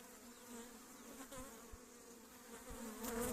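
Honeybees swarm over a crowded frame pulled from the edge of a strong spring hive in a village apiary, giving a faint, steady, continuous buzz that swells slightly toward the end.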